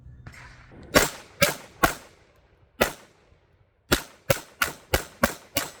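About ten sharp, loud pistol shots from a Cosaint Arms COS21 double-stack 1911 with a red-dot sight, fired in an uneven string: three, a pause, one, then a rapid burst of six, with no talking.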